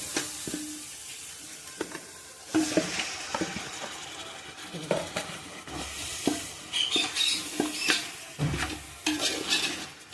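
Mutton with salt and masala, stirred in a pot for chicken biryani: scraping spoon strokes, clinks against the pot and a soft sizzle, heard up close with no talking.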